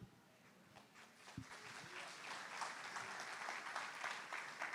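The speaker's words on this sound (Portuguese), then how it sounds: "Aplauda mais forte" A church congregation claps at a worship service, the applause faint and distant, swelling gradually into steady clapping.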